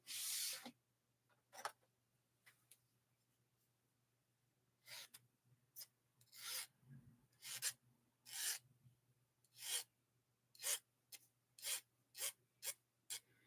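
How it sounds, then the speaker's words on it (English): Short rasping strokes grind down the tip of a carved blade, close and sharp, starting sparse and then settling into a quicker, regular rhythm of scraping passes. "I'm going to grind down the tip of this thing to give it a bit of a rounded shape"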